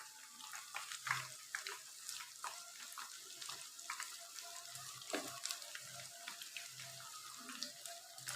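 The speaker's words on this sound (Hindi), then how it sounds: "कोफ्ते हमने तेज़ आंच पे फ्राई करने हैं" Koftas fry in very hot oil over a high flame, giving a soft, steady bubbling crackle with scattered pops throughout, heard from a moderate distance.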